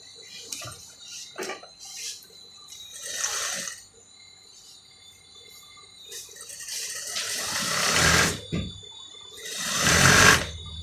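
A sewing machine stitches fabric while making a traditional Nigerian etibo shirt, in several short bursts of whirring that grow longer and louder toward the end, with quiet gaps between runs.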